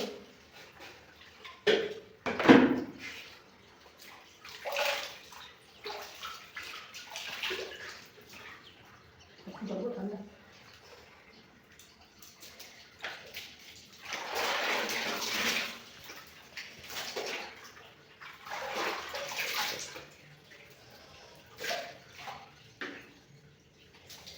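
Water, some of it cold, is poured over someone during a shampoo bath, splashing in repeated bursts of several seconds each with quieter gaps and drips between.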